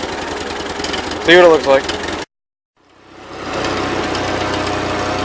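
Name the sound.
1941 Ford 9N tractor engine running after carburetor adjustment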